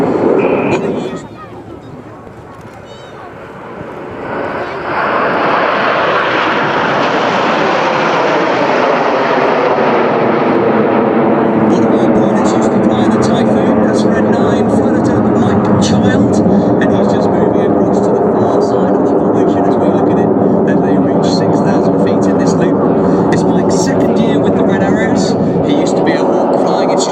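Red Arrows jet aircraft flying in formation at the Malta Airshow, a loud sustained roar that swells in the first seconds and then holds steady throughout, with a commentator talking over it.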